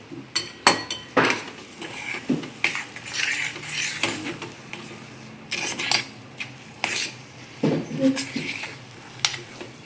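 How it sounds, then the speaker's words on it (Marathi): Spoon stirring tulsi-seed laddu mixture with cardamom powder in a metal pan, giving repeated clinks and scrapes at close range in an uneven rhythm. "मी हे सगळं छान हलवून घेते"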